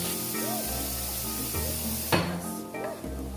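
Garlic frying in oil in a pan, a steady close sizzle with a couple of sharp stirring scrapes and brief bursts of louder crackle.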